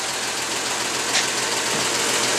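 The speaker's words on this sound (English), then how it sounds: "So this is running the engine with no valve cover on it." A 1952 Chevy Styleline 216/235 inline-six idles steadily with its rocker arm cover removed, a continuous broadband mechanical clatter and hum that stays close and even throughout.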